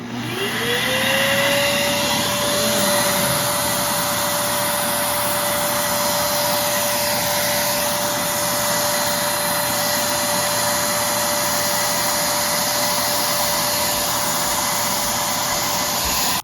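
A pet grooming vacuum with dog clippers attached whines steadily and loudly, spinning up at the start and then holding a constant high-pitched drone throughout.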